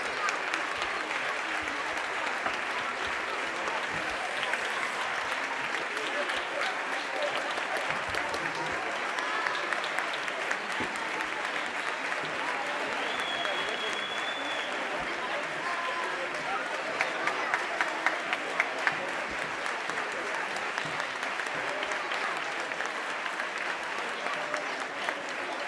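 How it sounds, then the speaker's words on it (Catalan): Audience at a 2019 Christmas concert by the A.C. Socarrats association gives long, steady applause, a dense, even roar of clapping that holds for the full duration, with some louder nearby claps and a few faint voices. "Un fort aplaudiment per a tots."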